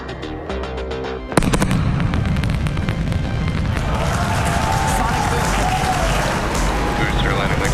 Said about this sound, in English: you're going to hear those sonic booms